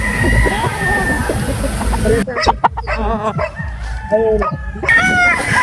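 Kelso gamefowl chickens clucking and crowing in a spacious backyard poultry yard, several close birds calling over outdoor background noise, with someone talking among them.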